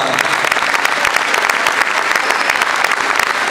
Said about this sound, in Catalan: que també voldria un aplaudiment